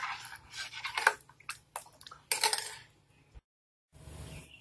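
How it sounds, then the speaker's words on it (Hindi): A pot of South Indian sambar simmering at a boil is stirred with a metal spoon, giving a string of close clinks and scrapes against the pot with bubbling between, a brief silent gap, then softer stirring resumes. "बीच में इसे ऐसे हिलाते रहिए।"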